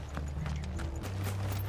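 Horse hooves clip-clop in a steady, close rhythm in the Final Fantasy XVI game, with a low rumble beneath and no talk.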